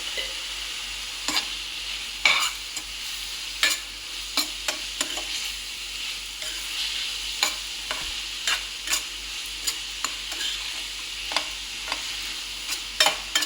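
Radish and salt are stirred in a pan over a low steady sizzle, with a spoon scraping and tapping the pan at irregular intervals.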